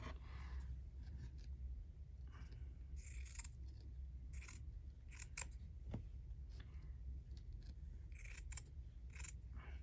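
Fabric scissors snipping through fabric at a crafting table, giving a run of short, close snips and rustles spaced irregularly across the stretch, alone with no talk.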